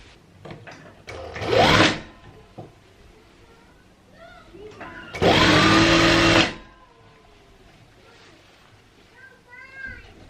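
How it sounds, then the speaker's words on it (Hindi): A sewing machine stitches Patiala salwar fabric in two close, whirring runs, one short and one longer of about a second and a half, separated by quieter handling sounds and a voice. "अब इसको भी मैं सी लूँगी।"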